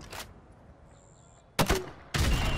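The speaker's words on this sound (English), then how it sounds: "Now pop a grenade into windows 5," Grenade launcher fire in the video game Modern Warfare Remastered: a short burst at the start, then two loud blasts with rumbling tails after a quieter stretch, with no talk.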